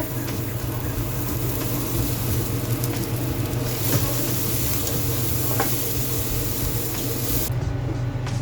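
Chickpeas tempered with onion and chili sizzle steadily in hot oil, a loud continuous crackle with occasional stirring scrapes, close up and without talk.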